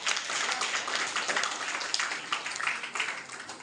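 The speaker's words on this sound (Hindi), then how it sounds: "जोरदार तालियां।" Audience applause fills a Vivekananda Jayanti youth day gathering, a dense, steady wash of many hands clapping close by for several seconds, with faint voices mixed in.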